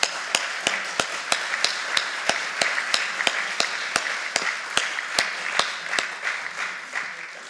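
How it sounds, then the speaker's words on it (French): Audience applause after a talk at a conference, a room of listeners clapping steadily with crisp, evenly spaced sharp claps standing out over a softer clapping wash, continuous and moderately close. "on peut vous applaudir pour cette intervention"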